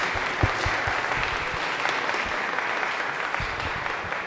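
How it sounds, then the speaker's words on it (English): An audience applauds after a keynote talk, a steady dense wash of clapping that holds evenly for several seconds with no voices over it. "Let's give a round of applause."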